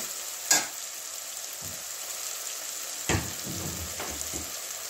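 Tomato and spices cook down in a pan with a steady high sizzle, punctuated by a few sharp scrapes and stirring knocks of a spoon against the pan.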